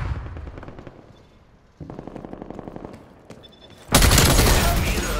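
An enemy gun turret fires in Call of Duty Black Ops Cold War multiplayer, with rapid bursts of automatic fire that build into a loud, dense fusillade of gunfire near the end.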